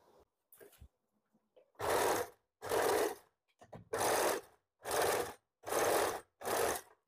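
A sewing machine stitches an umbrella frock in six separate bursts of whirring, each lasting under a second and separated by short pauses, with faint handling noises before the first run.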